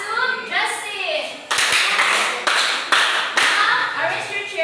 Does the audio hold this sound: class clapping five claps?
yes